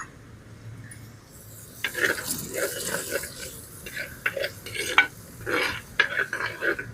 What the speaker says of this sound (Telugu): చూసారా ఆయిల్ అనేది ఆనియన్ ఎలా ఎగుతుందో